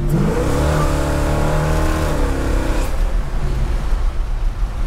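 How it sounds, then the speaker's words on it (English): A 1965 Chevy Malibu SS with a 502, roughly 500 horsepower, heard from inside while driving: the engine pulls loud and steady through a rising rev, eases off, and settles into a rumbling cruise. "We're driving it right now, super smooth"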